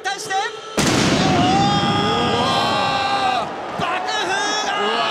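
A sudden loud pyrotechnic blast erupts at a pro wrestling match, followed by crackling and a roaring crowd with high shouts and whistles continuing around it.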